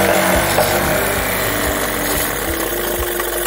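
An outboard motor idles low and steady, its even throbbing putter running close and loud for the whole stretch with no voices over it.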